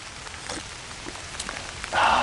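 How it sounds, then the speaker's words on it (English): Light rain mixed with some snow falls steadily during a winter overnight camp, a soft continuous patter close around the listener that swells briefly louder near the end, with no one talking. "it's a little bit of rain, and like I said, there's some snow in that too"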